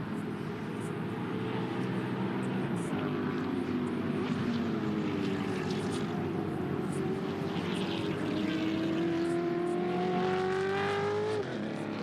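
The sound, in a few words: Ford Mustang touring car racing, engine sound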